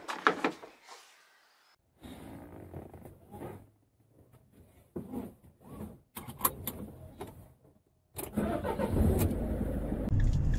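A Citroen Relay / Peugeot Boxer / Fiat Ducato van with a 2 litre diesel engine: scattered clunks and brief mechanical noises, then a loud, close diesel rumble builds steadily toward the end.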